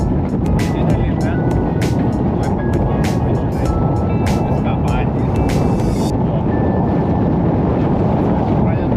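Strong wind while fishing outdoors in autumn, a loud steady rumble of wind buffeting the microphone, with a few brief sharp clicks and squeaks early on.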